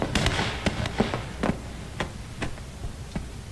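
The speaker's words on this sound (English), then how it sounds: "you can hear the actual ammunition going off in it." Scattered sharp pops and crackles of ammunition cooking off in the video game Post Scriptum, irregular and fairly faint over a low background rumble.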